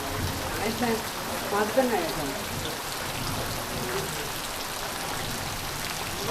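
Heavy afternoon rain pours down in a Konkan village as a dense, steady hiss, with a voice talking briefly under it early on before the downpour continues alone.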